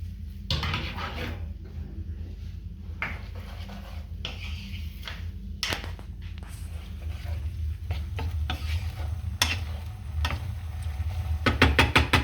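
Red wine splashes into an orzotto with sausage sizzling in a pan. Steady frying hiss runs under scattered utensil clinks, knocks and stirring scrapes, all close and fairly quiet.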